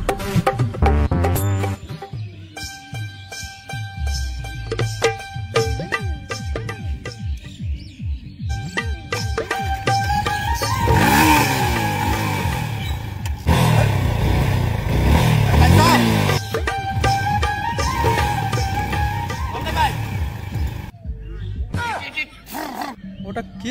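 A motorcycle engine revs and roars up close for a long stretch, loud and rising and falling with throttle, while people talk over it.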